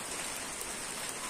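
Steady rain falls during the rainy season, heard from beneath a tree as a dense, even hiss of drops without pause, fairly soft and close.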